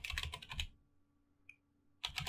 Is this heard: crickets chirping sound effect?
no